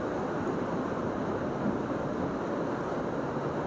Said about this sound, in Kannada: ಒಂಚೂರು ಗಾಳಿ ತಣ್ಣಗೆ ಬತ್ತೈತೆ